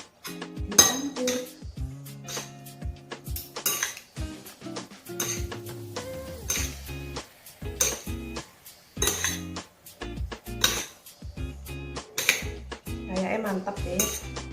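Spicy Samyang Korean noodles with sesame are stirred with metal utensils in a bowl, producing rapid clinking and scraping against the dish in uneven bursts, close and fairly loud with no talking.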